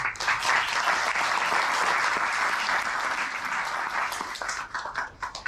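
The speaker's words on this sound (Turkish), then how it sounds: "Murat Türkbükmaz'ı alkışlarla" Sustained audience applause at a photography marathon award ceremony in Istanbul, a dense, loud wash of many hands clapping throughout that thins slightly toward the end.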